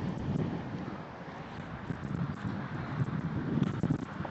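Steady wind buffeting a microphone outdoors, a continuous low rumbling rush with gusty swells and no speech.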